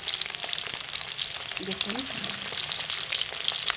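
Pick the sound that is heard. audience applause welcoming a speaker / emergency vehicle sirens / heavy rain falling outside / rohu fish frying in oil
rohu fish frying in oil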